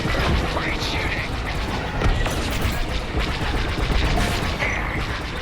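Starfighter weapons in Star Wars Squadrons fire in dense, rapid mechanical bursts amid a loud, continuous space-combat din, with voices faintly over the noise.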